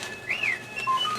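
A Star Wars lightsaber effect from a 1979 read-along record gives a single short, whistling electronic tone that swoops up and falls away, followed by faint fading tones over a soft background hiss.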